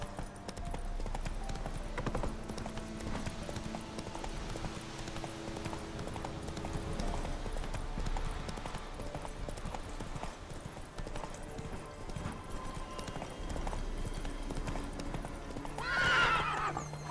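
Horse hooves in The Witcher 3 make a steady galloping clip-clop that runs throughout. A whinny comes near the end, under faint game music.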